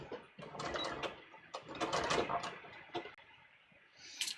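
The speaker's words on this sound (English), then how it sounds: "then I'm just going to stitch this side." A sewing machine stitches a collar facing in bursts of quick mechanical clatter, stopping and restarting several times with short pauses, close and fairly quiet.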